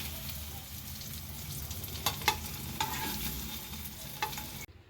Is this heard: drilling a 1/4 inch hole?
no